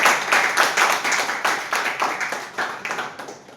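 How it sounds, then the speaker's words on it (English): An audience at a Toastmasters club meeting claps together, a steady round of applause from many hands at moderate distance that slowly fades over a few seconds. "So with a big round of applause"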